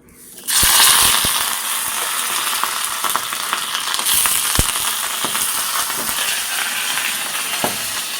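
Dried red chillies, curry leaves and mustard seeds hit hot oil in a home kitchen pan, bursting into a loud, continuous sizzle with sharp popping crackles scattered throughout.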